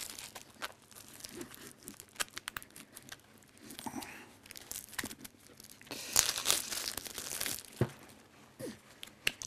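Crinkling and tearing of thin plastic wrapping as a small Zombicide card deck is opened, quiet close rustles and crackles coming in bursts, with a louder ripping stretch partway through.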